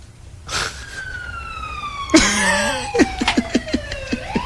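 An ambulance siren wails with a falling tone, then is joined by a loud yelling voice and sharp rhythmic bursts that nearly drown it.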